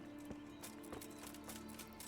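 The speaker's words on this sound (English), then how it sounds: "Now our horse is there." Horse hooves clip-clopping in the medieval role-playing game Kingdom Come Deliverance, a steady run of soft, evenly spaced hoof beats over a constant low background, fairly faint.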